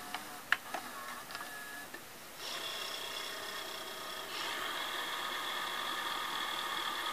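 A 1980s Realistic VCR goes into fast-forward: a few clicks and clunks from the mechanism, then a steady whirring tape-wind hum that steps up slightly in pitch and holds.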